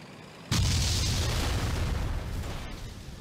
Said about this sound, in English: There's a huge explosion.